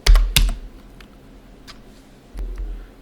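Keystrokes on a computer keyboard while entering a static route on a router: a couple of quick clustered taps, then a lone click and a final short burst, close and alone without speech.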